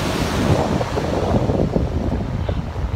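Surf washing against a shore under steady wind, with broadband wave wash and buffeting wind noise on the microphone running continuously and loud throughout.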